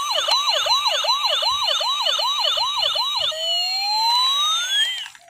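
A toy police car siren wails, cycling rapidly up and down, then shifts to a long rising sweep; loud, close, and thin-toned.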